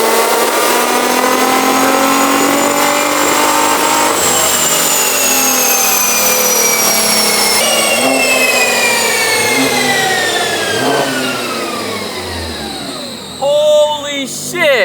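A Nissan GT-R on a dyno, its engine winding up through a long, loud sustained pull, pitch climbing steadily before dropping off near the end with a few sharp pops.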